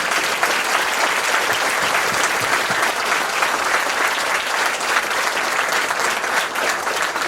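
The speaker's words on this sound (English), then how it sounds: "let's give these drill instructors a round of applause" Crowd applauding drill instructors at a Marine Corps Recruit Depot graduation ceremony, a dense, steady wash of clapping from a large audience that holds strong for the whole stretch.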